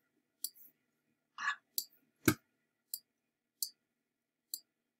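Computer mouse clicks while working in Photoshop, about half a dozen crisp isolated clicks spaced across a few seconds, with a brief rustle and one heavier thump among them, in an otherwise silent room.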